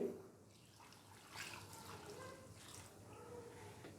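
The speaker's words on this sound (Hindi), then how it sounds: "1 गिलास हम इसके अंदर पानी डालेंगे।" A glass of water poured into chicken karahi, a soft, faint trickling and splashing stream lasting a few seconds.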